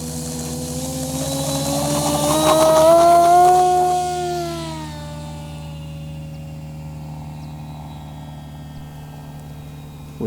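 A Durafly Me-163B Komet V2 EPO foam RC model, a 950 mm WWII interceptor replica, whines past with a rising then falling electric motor pitch, loud as it passes and fading to a steady distant drone.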